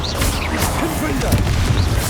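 A Confringo fire spell blasts in Hogwarts Legacy, a short booming burst amid constant loud game effects and sweeping tones, over about two seconds.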